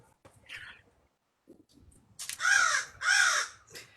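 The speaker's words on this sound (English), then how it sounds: "The crows are not going to stop." Crows caw outdoors, with two loud, harsh caws close together near the end after a few fainter scattered calls.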